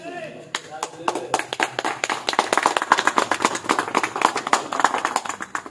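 A crowd claps loudly at a Republic Day flag hoisting, applause building from a few scattered claps into sustained rhythmic clapping that carries on for several seconds, with voices mixed in.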